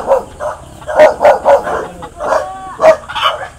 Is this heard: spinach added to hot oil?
no